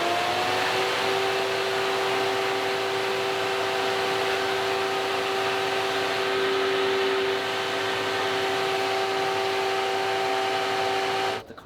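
A loud, steady whirring drone of a 600-watt electric cooling fan on a four-rotor RX-7 car, with a constant tonal whine, running unchanged close by before cutting off abruptly at the end.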